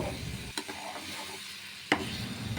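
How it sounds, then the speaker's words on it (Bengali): Raw mango pieces and sugar stirred in a pan over medium flame for chutney, giving a soft, faint scraping and gentle sizzle with a couple of louder spoon knocks. "আমি নাড়াচাড়া করে আমের সঙ্গে চিনিটাকে ভালো করে গলিয়ে নেব"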